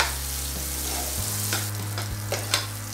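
Capsicum sautéing in a pan for chutney, a steady loud frying hiss over a low hum that cuts out midway, with a few sharp spatula scrapes and taps near the end.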